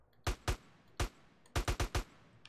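Gunfire in Grand Theft Auto: San Andreas: sharp single shots, two in quick succession, then one alone, then a fast run of four, each a crisp, fairly loud crack with a short tail. Nobody talks.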